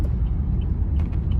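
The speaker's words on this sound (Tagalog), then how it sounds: "Dami sasakyan." Steady low rumble of heavy road traffic on a busy route toward a toll plaza near NAIA Terminal 1 in Manila, many vehicles droning together with faint higher hiss; no talking.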